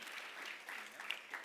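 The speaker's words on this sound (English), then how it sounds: "Let's give Kevin a big round of applause." An indoor audience claps together for a business speaker's guest, a steady dense patter of many hands sustained through the brief moment, fairly loud and uninterrupted by talk.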